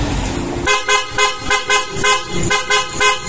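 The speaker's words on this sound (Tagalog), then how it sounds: "Ito yung pinaka P horn, sir." A P horn on a Sniper 155 motorcycle blares close and loud in a rapid, even train of about ten sharp, nasal toots after a short lead-in of engine idle.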